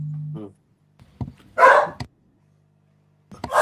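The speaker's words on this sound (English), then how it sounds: "Dog's barking, so the missus has just come home." A dog barks indoors at home, a short burst of barking between quieter moments, with some voice and other household noise around it.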